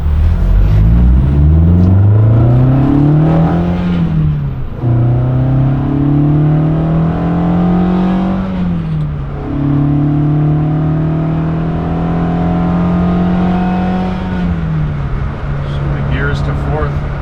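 A 1972 BMW 2002tii Alpina A4 tribute accelerating hard through the gears, its engine note climbing in loud, close pulls that dip at each of three shifts, with voices talking over the cabin noise.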